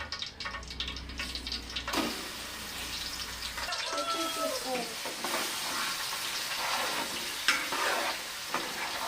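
Ginger paste hits hot oil in a pan while a fish curry is being cooked, giving a steady bright sizzle with stirring scrapes and splutters that carries on without a break.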